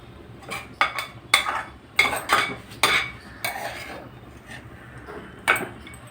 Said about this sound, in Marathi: शेंगदाण्याचं कूट आणि रताळ्याचा हा मिक्स करते